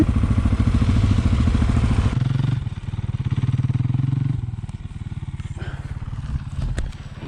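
A motorcycle engine idles close by during a December bivouac trip, its steady throbbing rumble dipping briefly and then resuming, with a few sharp clatters toward the end.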